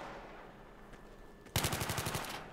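Automatic gunfire in the video game Battlefield 3 erupts suddenly after a quiet stretch, a rapid, evenly spaced burst of about ten loud shots.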